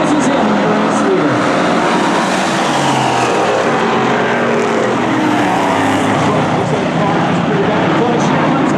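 Bomber-class race cars circling a track as a driver closes on the leader: a dense, loud, continuous engine roar that swells and fades slightly as cars pass, with an announcer's voice running underneath.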